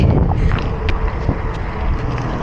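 Strong wind buffets the microphone in a continuous low roar while cycling on gravel, with faint rattling and road noise from riding underneath.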